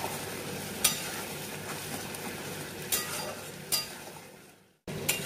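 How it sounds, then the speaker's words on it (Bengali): Spice paste for mutton curry sizzling steadily in hot oil, stirred with a spoon that gives a few sharp clinks against the pan, ending in a brief pause before the frying resumes. "মশলাটা কষতে শুরু করেছে, এর মধ্যে সামান্য নুন দিয়ে দেবো"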